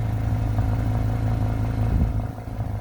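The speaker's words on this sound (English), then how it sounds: "Love the sound of the exhaust." Exhaust note of a 1992 Acura Vigor GS, a steady, close, low rumbling drone with a slightly uneven pulse, heard alone with no talking.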